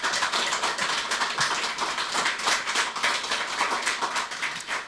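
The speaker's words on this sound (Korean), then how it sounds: "큰 박수 부탁드립니다" Dense, steady applause from a large audience at a political party launch event for a satellite party, continuous and fairly loud throughout with no voices over it.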